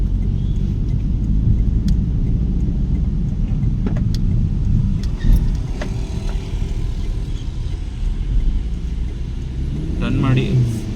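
A car's engine drones steadily and near during a driving lesson as it drives and makes a U-turn, a constant low rumble under an instructor's talk.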